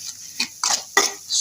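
A spoon scrapes and stirs spices in a cooking pot in a home kitchen, giving short separate scraping strokes at an irregular rhythm, close and fairly quiet, with no talk.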